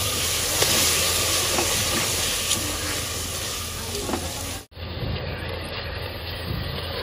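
Onion and garlic paste fries in oil with a steady sizzling hiss, close and continuous, with faint stirring scrapes and a brief break midway.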